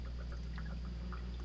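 Olive leaf extract pouring through a funnel in a soft, steady stream, faint and close, with a low hum underneath.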